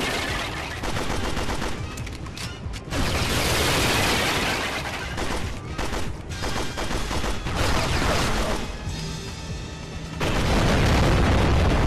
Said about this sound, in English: Oh, those grenades!